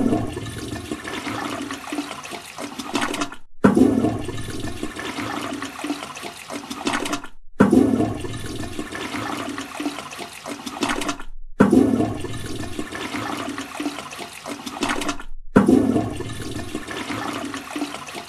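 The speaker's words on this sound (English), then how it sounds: "We will flush ourselves in the toilet." A toilet flushes loudly and close, the same rushing, gurgling flush heard five times in a row, each separated by a brief silent gap.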